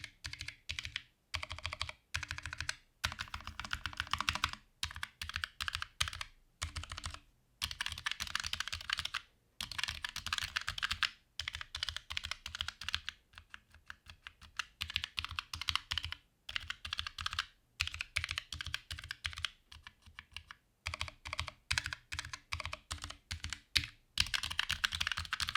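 Someone types on a Streak 65 gaming keyboard, producing close, crisp key clacks in quick irregular bursts with short pauses between runs, and no voices.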